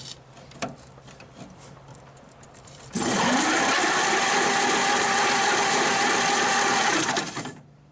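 The engine of a 1931 Ford Roadster cranks over during a compression test. A fast, even chugging starts a few seconds in and runs loud and steady for about four seconds before stopping, with quiet background noise before it.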